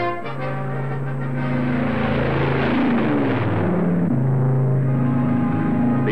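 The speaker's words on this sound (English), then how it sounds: "expedition used a rocket-assisted ski plane to take off from the task force carrier for Little America." A rocket-assisted ski plane takes off from a task force carrier bound for Little America on a 1947 Antarctic expedition, its steady, loud droning engine roar with tonal harmonics swelling midway and holding throughout without voices.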